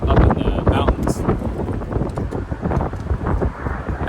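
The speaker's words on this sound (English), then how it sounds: "give you a sense of like how windy it is here" Strong mountain wind on a winter trail buffets the microphone in loud, rumbling gusts that rise and fall throughout, with a voice speaking underneath.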